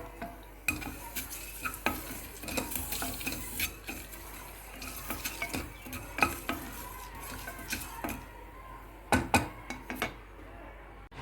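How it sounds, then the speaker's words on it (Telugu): Curry leaves frying in hot oil for a tempering while cooking a mixed vegetable curry, a steady sizzle broken by frequent clinks and scrapes of a spoon stirring in the pan. "కొంచెం కరివేపాకు కూడా వేయించుకోండి."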